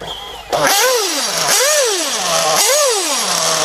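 A nitro RC car engine with a Pico .28 motor revs hard three times with the carburetor throttle, each burst rising to a shrill whine and falling back, loud and close.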